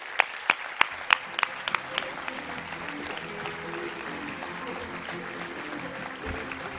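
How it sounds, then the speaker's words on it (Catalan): Audience applause at a Catalan political rally, opening with several loud, distinct near claps in a slow rhythm that blend into steady, fuller crowd clapping. "Si us plau, un fort aplaudiment."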